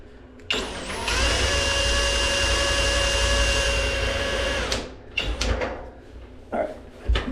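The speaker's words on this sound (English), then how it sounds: "directions say to do an 1/8 inch drill bit" A power drill with a 1/8 inch bit bores a hole during a shower door installation, a steady whirring run of about four seconds, close and loud, followed by a few short bursts and clunks.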